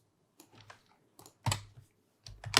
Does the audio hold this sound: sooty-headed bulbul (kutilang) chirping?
no